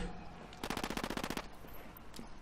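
A rapid burst of automatic gunfire in the video game Ghost Recon Wildlands, about a dozen evenly spaced shots over under a second, sharp and fairly close, with a single faint shot afterward.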